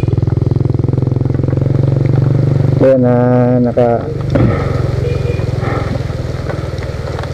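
A 125cc RCS Black Hook motorcycle idles with a steady low engine drone, briefly revving near the middle before settling again, while someone talks over it.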